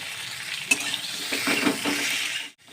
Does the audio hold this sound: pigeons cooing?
no